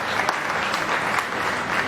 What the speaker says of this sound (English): please give these kids a very, very good round of applause